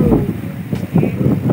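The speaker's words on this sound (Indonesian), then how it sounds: "Di jalan Pahlawan, anginnya enak banget." Wind rushes and buffets the microphone while riding a bicycle along a city street, a loud, low, fluttering roar that surges and dips throughout.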